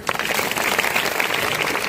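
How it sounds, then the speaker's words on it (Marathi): Applause breaks out for a school principal at a school event, steady dense clapping from a crowd held at an even level throughout without clear voices. "आता त्यांच्याकरता जोरदार टाळ्या वाजवा"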